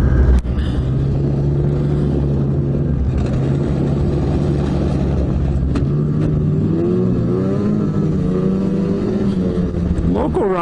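A snowmobile engine roars steadily as the machine climbs a hard hill, loud and close throughout with shifting pitch and a brief rev near the end.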